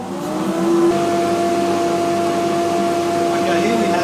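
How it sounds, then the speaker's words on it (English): Workshop dust extraction system switched on beside a Laguna bandsaw, a blower spinning up then holding a loud steady whine and airy roar, continuous and close. "So first of all we need the extraction on."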